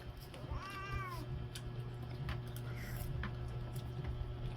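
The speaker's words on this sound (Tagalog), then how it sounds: "Baka yung pusa." A cat gives one short, clear meow with a rising and falling pitch, heard over steady low household hum and background clatter at a family meal.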